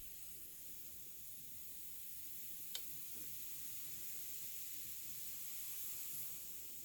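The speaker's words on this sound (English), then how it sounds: "Listen to that sizzle." Steady, quiet sizzling hiss of waffle batter on a hot waffle iron, with one faint brief tick, continuous and even throughout, no voices.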